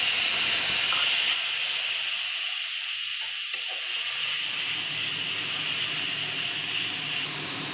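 Strained sour yogurt hitting a hot pan tempered with kalo jeera, giving a loud, steady steam hiss and sizzle that holds for several seconds before easing slightly near the end, with no voices.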